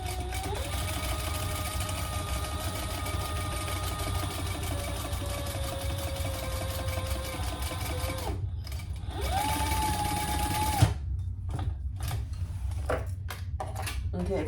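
A sewing machine stitches a strap on a crossbody bag, its steady rapid mechanical whir running close and loud, then breaking into shorter stop-start bursts near the end.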